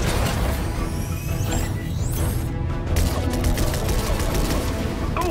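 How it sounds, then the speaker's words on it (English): Laser cannons on the Battle Bus fire in Fortnite during the Galactus event, a dense continuous barrage of rapid blasts and crashing impacts with no break. "I was hoping we'd have an excuse to try out the Battle Bus's laser cannons."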